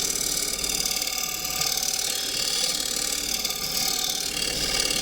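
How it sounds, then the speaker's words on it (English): A skew chisel cuts across the face of a wooden tray spinning on a lathe, a continuous dense whirring and rattling chatter, close and loud, steady for the whole stretch. "since I've got the skew in my hand,"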